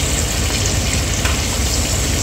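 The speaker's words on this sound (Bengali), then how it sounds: "পুরোটা একদিকে ফ্রাই হোক।" Tengra fish frying in hot oil with a bay leaf, a loud, steady, dense sizzle that runs continuously and close up throughout.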